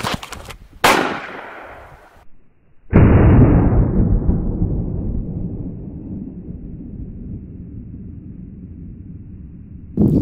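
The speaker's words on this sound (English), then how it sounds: "I'll be shooting from about 20 feet away again from directly in front of the magazines" A single loud 8mm Mauser rifle shot firing steel core ammunition at a target of magazines about twenty feet away, preceded by a sharp click and followed by a long, fading boom echoing outdoors.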